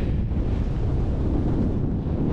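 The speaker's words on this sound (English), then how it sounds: "Well, it's windy up here." Strong wind buffets the microphone on an exposed hilltop near Alport Castles, a steady, loud, broadband roar with no letup and no voices.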